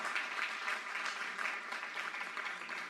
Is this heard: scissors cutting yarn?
no